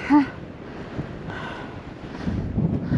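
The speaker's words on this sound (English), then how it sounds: "Oh, it's windy." Gusty wind on Mount Augustus buffets the microphone with a low, rumbling roar that swells and grows stronger toward the end.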